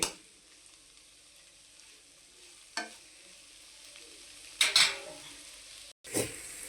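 Okra (bhindi) frying in a pan with a soft, steady sizzle, broken by a few sharp scraping stirs of a utensil against the pan and a short cut in the sound near the end.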